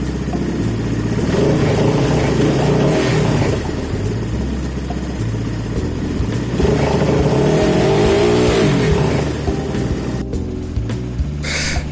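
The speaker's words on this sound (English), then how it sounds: "So I'm going to raise the throttle and see if the RPM needle goes up." UM Renegade motorcycle engine idling, then revving as the throttle is raised, a loud, steady drone with a rising and falling rev partway through, close to the microphone.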